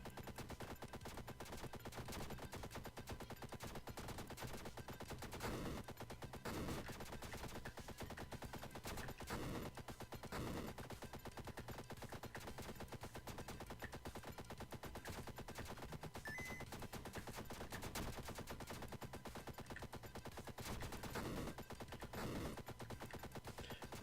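Rapid ship machine-gun fire from the Starfighter Research & Development video game rattles on continuously as quiet, dense bursts with occasional heavier volleys throughout.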